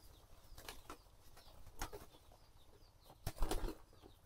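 Several pigeons beat their wings in quick, close bursts while feeding on a home loft floor, with a louder flurry near the end and no clear cooing.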